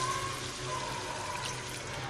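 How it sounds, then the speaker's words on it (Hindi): Water poured into a pot of browned goat or mutton stew with whole spices, a steady splashing pour running close and continuous for a couple of seconds. "अब इसमें हम पानी ऐड कर लेते हैं और इसे गलने के लिए रख देते हैं।"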